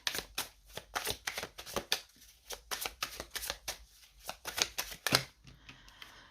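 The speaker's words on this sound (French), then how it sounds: "On va prendre 2 cartes." Tarot deck being shuffled and cards drawn, a fast run of crisp riffling slaps and flicks close up, steady through most of the stretch then ending in a few final snaps.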